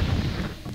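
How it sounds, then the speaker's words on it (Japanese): A bomb goes off in The Legend of Zelda: Twilight Princess, a single loud, close low-frequency blast that rumbles and fades over a brief moment. "これが爆発して何か起こんないかな"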